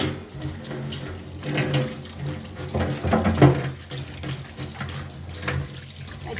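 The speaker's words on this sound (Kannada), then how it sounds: "ಇದವನ್ ಅದು ಚೆನ್ನಾಗಿ ತೊಳಿಬೇಕು" Tap water runs steadily into a sink while herbs for a village-style kashaya are washed under it, a close, continuous splashing with irregular bursts as the leaves are moved through the stream.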